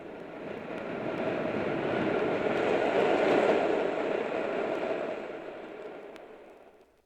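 A Chicago subway train runs steadily beneath the city, a broad rumbling roar that swells to a peak midway and fades toward the end, with no voices.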